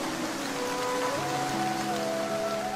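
Rain in a Bengali fairy-tale cartoon falls as an even, steady hiss of patter, with a faint sustained tone drifting over it and no voices.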